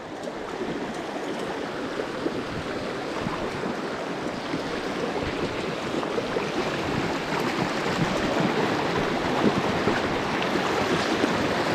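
A river stream with a strong current rushes steadily and close by, its continuous broadband wash unbroken for the whole stretch, with no voices over it.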